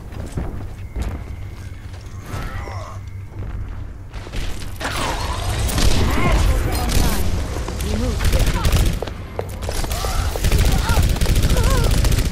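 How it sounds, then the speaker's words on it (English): Rocket barrage explosions in the Overwatch beta. After a quieter lead-in, a loud, dense volley of blasts and crackling impacts fills the second half, mixed with game effects. "Rocket barrage incoming!"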